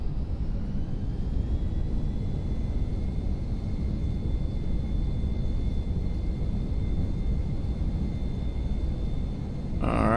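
Airbus thrust reversers roar in a flight simulator during a snowy landing. A loud, steady, broadband engine rumble with a faint high whine holds for about ten seconds, then eases off briefly before a final swell.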